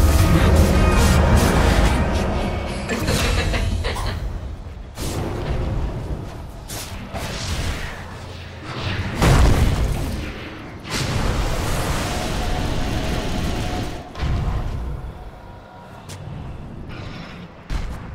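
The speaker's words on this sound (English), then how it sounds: "Radiant's bottom tower is under attack. Radiant's bottom tower has fallen." Dota 2 match audio with dense, continuous game sound: heavy booms, whooshes and mechanical clatter of a tower being attacked and falling, loud and busy throughout with recurring impact surges.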